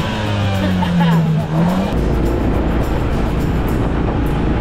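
A golf buggy racing another vehicle along Duval Street in Key West, with loud continuous engine and road noise up close and a brief tire squeal early on.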